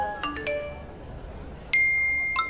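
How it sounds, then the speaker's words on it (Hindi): Wedding guests' phones go off with notification dings: bright, ringing chimes in quick pairs near the start and again near the end, each fading out over a quiet background. "टिंग टिंग टिंग टिंग टिंग टिंग टिंग टिंग सबके जितने लोग वहाँ इनवाइटेड होते हैं उनके फोन्स पे"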